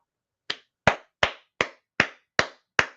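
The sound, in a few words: hand clapping, round of applause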